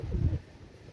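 Pakistani pigeons give a short, low, soft coo at close range, fading quickly into quiet background hiss.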